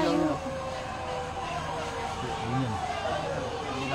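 A fire truck siren wails at a distance during a fire at a residential compound in Taytay, Rizal, faint and rising under nearby talk and steady background noise.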